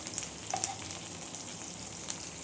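Onions sautéing in a pan for Madurai mutton chukka: a steady, soft sizzle with a few faint clinks of stirring, close and continuous, no talk.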